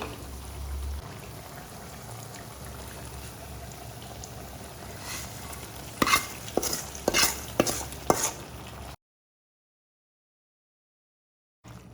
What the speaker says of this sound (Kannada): ಸೊಪ್ಪು ಬದನೆಕಾಯಿ ಕೂಡ ಚೆನ್ನಾಗಿ ಬೆಂದಿದೆ ಈಗ ಒಗ್ಗರಣೆ ಸೇರಿಸ್ತಾ ಇದ್ದೀನಿ